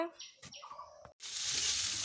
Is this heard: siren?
no